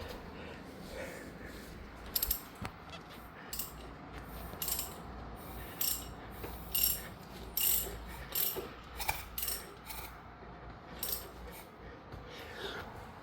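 A hand ratchet wrench with a 19 mm socket turns a Honda CR-V engine over, giving scattered bursts of quick clicking at close range with pauses between strokes and a quiet workshop background.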